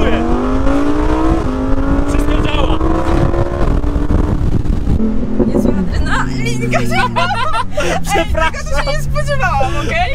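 A car engine roars at high revs, its pitch climbing and shifting, while people talk loudly over it close by.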